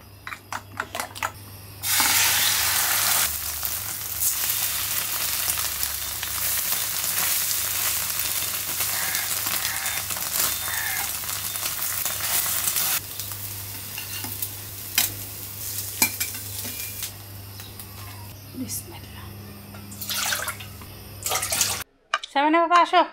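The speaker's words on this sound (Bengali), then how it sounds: "ডিমটাও ভাজবো ঘিয়ে," An egg fries in homemade ghee with a loud, steady sizzle that carries on for about ten seconds, then thins out among scattered utensil clicks and kitchen clatter.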